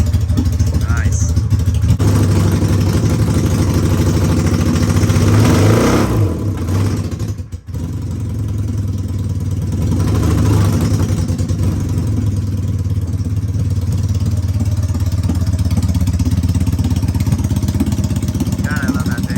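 A Mazda Miata with a swapped BMW M62 V8 runs loudly up close, holding a steady deep idle that swells with revs and briefly dips before settling back into a constant rumble.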